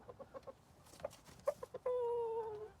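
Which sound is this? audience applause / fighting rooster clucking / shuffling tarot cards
fighting rooster clucking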